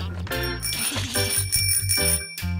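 A cartoon bicycle bell rings in bright, bouncy ding-a-ling bursts, several clear metallic rings repeating over a lively musical backing.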